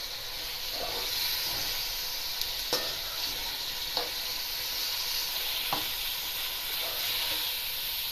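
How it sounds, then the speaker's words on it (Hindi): Minced meat keema frying in a pan with ginger garlic paste, a constant soft hiss and sizzle with a few sharp clicks of a spoon against the pan, quiet and close, with no talking. "इसको हल्का सा फ्राई करेंगे। और साथ ही इसमें अदरक लहसुन डाल देते हैं।"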